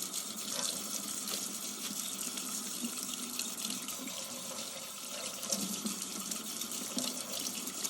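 Warm water runs steadily from a tap to rinse etching cream off a glass decanter, with a constant close splashing flow and no talk.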